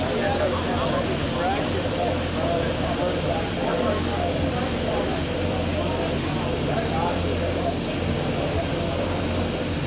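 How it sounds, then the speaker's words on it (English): A spray gun sprays black paint onto a mug, giving a continuous close, loud hiss that holds steady for the full length, with a low mechanical hum underneath. "get the spray gun ready to go"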